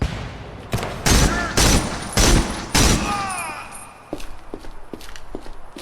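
Several loud, close shotgun blasts in the video game Project Silverfish, fired in quick succession with heavy booming reports, followed by quieter clicks and clatter as the weapon is handled.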